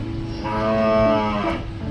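A cow lets out a single drawn-out moo, moderately near and swelling then fading, over low farmyard background noise with no talk.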